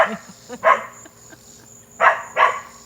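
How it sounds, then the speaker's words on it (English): A dog barks about four times in short, fairly loud bursts, one early and a close pair near the end, with quiet gaps between them. "Why is she barking?"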